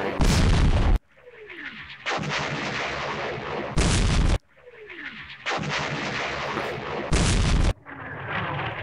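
Artillery fire in the World War II strategy game West Front, with loud booming blasts that repeat in a regular pattern, each followed by a descending whistle and a rumbling tail.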